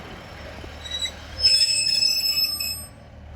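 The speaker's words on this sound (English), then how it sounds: "That is 397002 off to Glasgow Central." A Class 397 electric train, unit 397002, pulls out of a station bound for Glasgow Central, with loud high-pitched wheel squeals rising midway over a low rumble, then fading.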